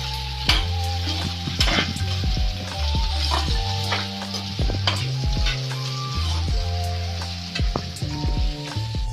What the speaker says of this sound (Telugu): టమాటా ముక్కలు వేసుకొని మిక్స్ చేసుకోవాలన్నమాట